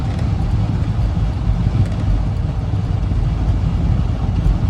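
A 1950 Ford F-1 pickup truck on the move, its engine giving a steady, loud low rumble with road and wind roar throughout, no distinct gear change standing out.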